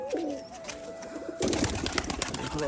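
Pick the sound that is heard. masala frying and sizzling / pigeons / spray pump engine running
pigeons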